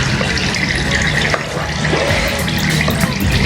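Motor oil drains from a 2020 Yamaha MT03 motorcycle during an oil change, a steady close trickle and splatter of liquid running continuously without voices.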